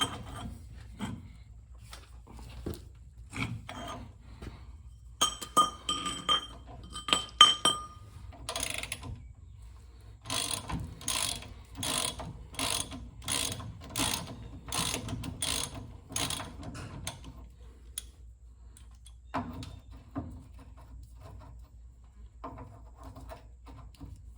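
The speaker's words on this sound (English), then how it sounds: "We've got our 3/4 socket. Get a little cheater bar on it." A 3/4 socket ratchet with a cheater bar works on the front suspension of a 1957 Studebaker Silver Hawk. Irregular clicking comes first, then a rapid run of evenly spaced ratchet clicks, then quieter clicks after a pause. Close and fairly quiet.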